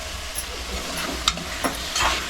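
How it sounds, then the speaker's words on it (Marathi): Potatoes being stirred in a pot while cooking Malvani-style brinjal bharit: soft sizzling under occasional scraping and clinking of a spoon against the pot, close and moderately quiet, with no speech. "बघा आता बटाटे टाकून घेतली. तिथून हलवून घेते."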